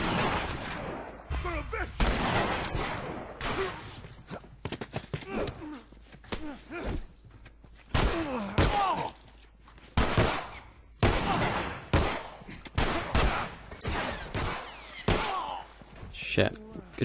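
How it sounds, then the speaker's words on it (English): Gunfire in The Last Of Us video game comes as sharp, loud shots and short bursts at irregular intervals, with a voice talking in between the blasts. "Good shooting, Ellie."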